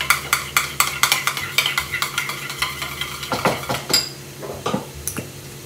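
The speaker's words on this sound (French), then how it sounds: "On vient mélanger." A spoon stirs a mustard sauce of crème fraîche and strong mustard in a dish, with steady rhythmic scraping and clinking strokes, close and clear, with no talking.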